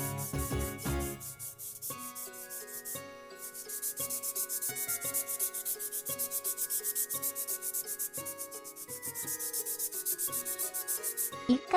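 Cured polyester body putty being wet-sanded by hand, with steady rhythmic rubbing strokes repeating throughout over a bed of background music.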